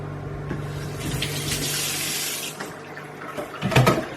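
Cold water runs from a kitchen tap in a steady splashing stream, with a brief clatter and bump of a container near the end.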